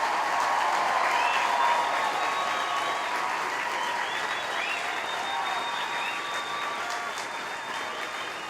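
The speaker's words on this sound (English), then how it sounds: "How about a nice round of applause for all our honor graduates?" A large crowd at an airmen's graduation ceremony applauds its honor graduates, a dense, sustained wash of clapping that stays loud and even throughout, slowly easing off slightly toward the end, with no one speaking.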